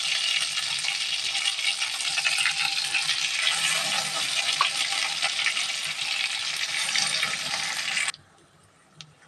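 Ground ghatkol leaf paste drops into hot oil with cumin and fries in a steady, dense sizzle. The sizzle holds loud and even for about eight seconds, then suddenly cuts to near quiet.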